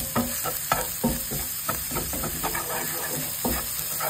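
Garlic frying in cooking oil in a pan for shrimp salvatore, a steady hissing sizzle with repeated scraping stirs of a utensil, close and continuous.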